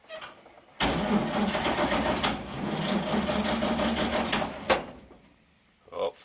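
A 1942 Chevy 1.5 ton barn-find truck engine cranking while flooded, a loud close starter grind running for about four seconds without catching, then stopping, with a short voice at the end.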